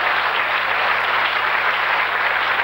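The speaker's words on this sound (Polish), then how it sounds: "Wielkie brawa." Audience applause for the Unicus ensemble, a steady, dense wash of many hands clapping, loud and sustained from start to finish with no voices over it.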